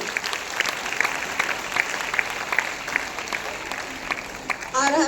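Audience claps enthusiastically at a gathering, a steady round of applause lasting several seconds, with a voice starting to speak over it at the very end.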